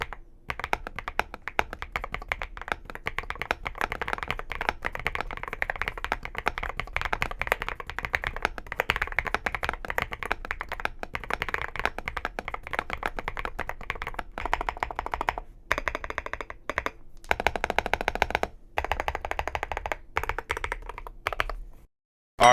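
Rapid, continuous clacking of keys on a meow meow cake keyboard, close and steady with no talk, running for about twenty seconds before briefly pausing and stopping near the end.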